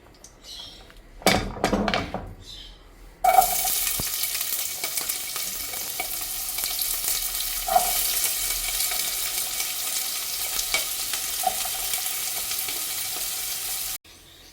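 Onions drop into hot ghee in a pan and burst into a loud, steady sizzle that lasts for several seconds, with occasional stirring. A brief clatter of handling comes first, then the sizzle cuts off abruptly.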